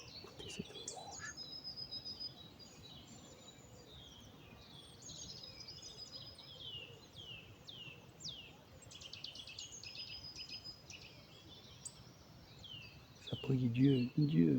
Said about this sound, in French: Les oiseaux du ciel.